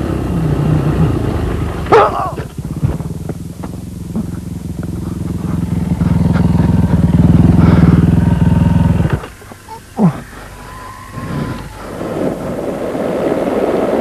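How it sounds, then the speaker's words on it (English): Dakar Rally motorcycle ridden on a desert stage, engine droning loudly up close with surging revs, then dropping away briefly before picking up again with bumps and knocks. "for a chance to see what it's really like on the stages, let's ride with the Czech rider, Martin Maček."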